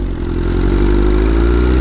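A BMW S1000RR with an SC Project slip-on exhaust and straight headers with no cats rumbles loud and close while engine braking, with a steady heavy exhaust drone and faint crackling through the deceleration.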